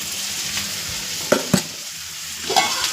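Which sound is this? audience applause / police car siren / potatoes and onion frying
potatoes and onion frying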